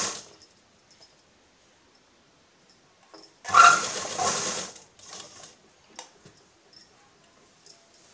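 A domestic sewing machine stitches a fall onto a saree in one close burst of about a second and a half, then quieter intermittent clicks and fabric handling follow amid near silence.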